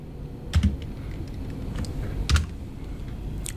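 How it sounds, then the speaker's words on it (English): Typing on a computer keyboard at a desk, a few soft scattered keystrokes with short pauses between clusters, close and quiet against a faint room hiss. "you can just type in the words"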